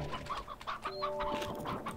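Hens clucking in the video game Slime Rancher: a quick, repeated run of soft clucks over a steady background hum, with no one talking.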